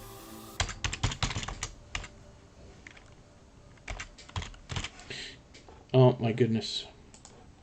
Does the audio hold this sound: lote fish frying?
no